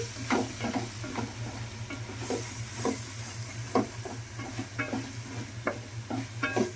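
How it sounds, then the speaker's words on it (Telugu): Curry leaves stirred into an egg and tomato curry in a pan, a soft steady sizzle under a low hum, with irregular scraping strokes of the spoon close by. "చక్కగా కరివేపాకు కూడా యాడ్ చేసుకుందాం కాబట్టి చక్కగా మొత్తం కలిసిపోయేలాగా కలిపేసుకుందాము"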